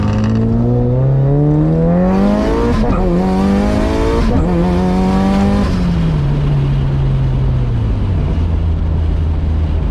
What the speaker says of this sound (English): I love that flat foot shifting